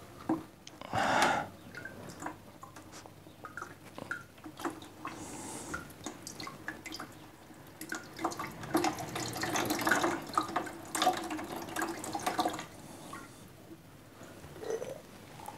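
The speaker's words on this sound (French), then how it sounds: "Alors je vais récupérer l'eau des petits pois." Soaking water being poured off garden peas before sowing, a run of splashing, trickling and dripping liquid that swells and fades in irregular bursts, fairly close and soft, with no talking.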